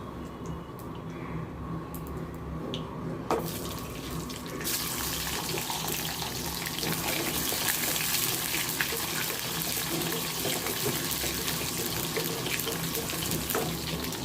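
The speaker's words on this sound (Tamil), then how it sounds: "பூண்டு நல்லா வதங்கி வரட்டும்" Chopped garlic goes into hot oil with cumin in a pan while cooking spring onion kulambu; a faint hiss jumps to a loud, steady sizzle that continues unbroken to the end.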